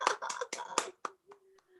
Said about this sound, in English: After that radio drama, we ought to applaud them.